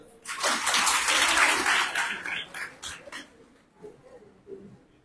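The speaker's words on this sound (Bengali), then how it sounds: "ঠিক আছে, একটা করতালি।" A short round of applause from an audience at a formal gathering, a dense burst of clapping that swells quickly and then thins into scattered claps before fading.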